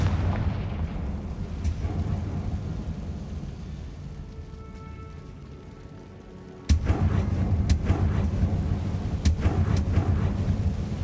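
A Confringo explosive spell in the Hogwarts Legacy video game goes off with a sudden loud blast after a steady low rumble, then a sustained roaring burn with scattered crackles and pops.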